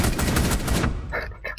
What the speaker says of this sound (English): you shot that like a freaking shotgun